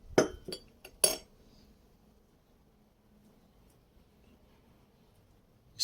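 Several sharp clinks of antique Dovbysh porcelain tea set dishes knocking together near the start, followed by quiet.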